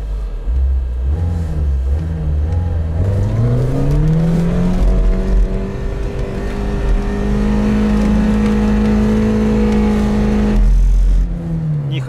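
A Lada Niva engine revs hard in first low gear up toward the limiter, its note sweeping upward and holding a loud strained drone before dropping off, close and with no talk.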